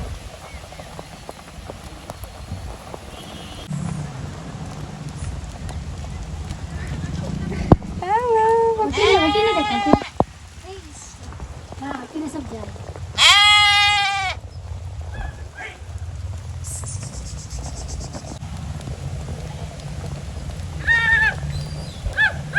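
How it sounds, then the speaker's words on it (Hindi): A herd of goats passes by in the rain in a village, heard from inside a waiting auto-rickshaw, with several loud bleats over a steady patter of rain. "और बकरी आ रही है उधर।"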